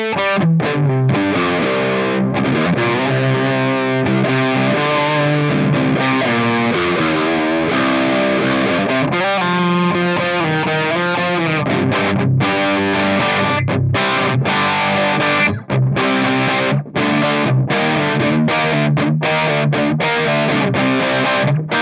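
Electric guitar played through a ProCo Roadkrill distortion pedal, with the filter and distortion knobs turned all the way down, ringing out in a loud, dense run of sustained chords and notes that fills the whole stretch without pause or talk.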